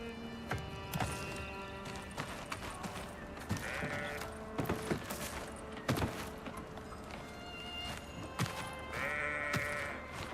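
A goat in a video game bleats several times among rhythmic hoof-like clip-clop footsteps and scattered game effects, the calls fairly close and moderately loud.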